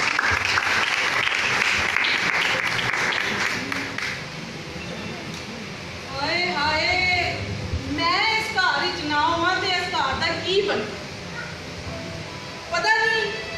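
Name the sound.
audience applause for a theatre drama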